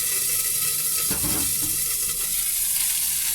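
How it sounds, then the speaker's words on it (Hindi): Spices and chillies hit hot oil as a tempering for moong masoor dal, giving a steady close sizzle with a short burst of stirring or splashing in the middle, continuous throughout. "और तड़का लगा देंगे।"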